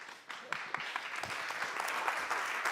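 An audience at a blockchain and banking conference applauds, fairly faint and somewhat distant, starting after a brief lull and building into continuous clapping with distinct individual claps.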